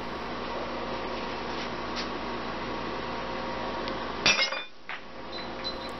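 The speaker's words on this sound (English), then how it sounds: "I decided to test the B007 tungsten tip on a tempered glass pie plate." A tungsten-tipped tactical pen strikes a tempered glass pie plate once with a sharp glassy crack, followed by a brief softer clink, all over a steady background hiss.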